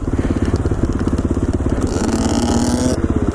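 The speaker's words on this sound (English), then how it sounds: "I'm now here riding the mighty KTM 450 XCF." A rebuilt KTM 450 XCF dirt bike rides with a loud, close, continuously pulsing single-cylinder engine note that rises in pitch near the end, with some clatter from the ride.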